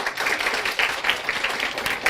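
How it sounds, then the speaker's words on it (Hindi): Classroom students clap together for a classmate, a dense, steady patter of many hands that keeps going for a couple of seconds, with no talking over it. "एक बार इस गुड़िया के लिए ताली बजा दोगे?"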